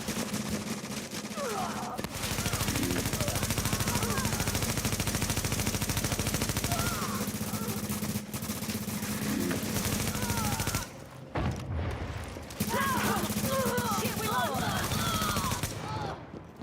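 Sustained game gunfire from enemy snipers and automatic weapons in The Division 2, dense and continuous for long stretches, with short pauses and scattered electronic chirps and effects layered over it.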